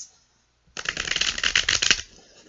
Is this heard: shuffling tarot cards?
yes